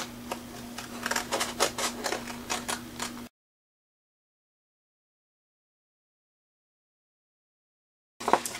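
Scissors cut paper around scallops for a Christmas scrapbook layout, giving a quick series of crisp, close snips, then a silent stretch, then a brief final burst of cutting.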